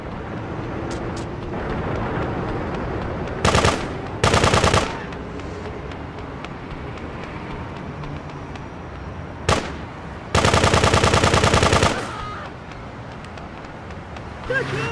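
Bursts of machine gun fire from the video game GTA 2, a short double burst followed later by a longer sustained burst, loud over steady game background noise and police-radio style voice announcements.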